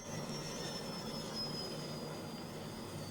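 A jet car engine roars in a car commercial: a loud, steady, unbroken rush with a thin high whine drawn across it for the full few seconds.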